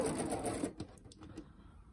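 A sewing machine stitches down the pleats of a homemade cloth face mask in a quick, dense run of needle strokes that stops after under a second, leaving quieter handling noises.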